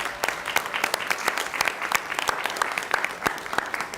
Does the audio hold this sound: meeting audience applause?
yes